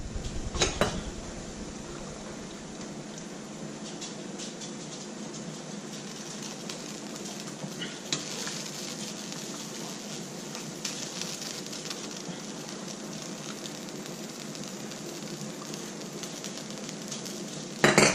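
Meat cooks in pho broth brought back toward a boil, giving a steady low bubbling hiss that runs on evenly, with a couple of faint knocks at the start and end; no one talks.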